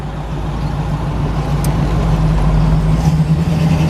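A 1967 Pontiac Firebird convertible's engine idles through Flowmaster exhaust with a deep, throaty rumble that stays steady and close, rising slightly in loudness toward the end.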